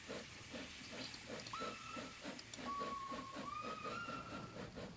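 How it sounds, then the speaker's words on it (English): Train whistle blowing in a Roblox railway game, a few rising and steady tones near the middle and end, over a steady hiss and rhythmic rumble of a moving train. "A little whistle out there"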